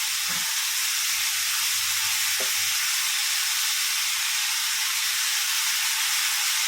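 Taro leaves sauté for a country-style curry with lentils, filling the pan with a loud, steady, close sizzling hiss, with a brief faint knock early on.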